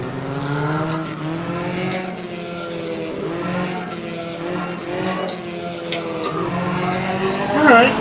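Ford Cortina touring car in the rFactor racing game, its engine note climbing and dropping through repeated gear changes, with a short tire squeal near the end.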